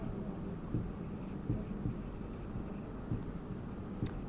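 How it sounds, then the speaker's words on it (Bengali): Accounting formulas are handwritten with a pen, a quiet scratching of strokes and short taps in an irregular rhythm, close but faint, with faint whispery voice sounds underneath. "সূত্রগুলো আমি লিখে দিচ্ছি আপনাকে।"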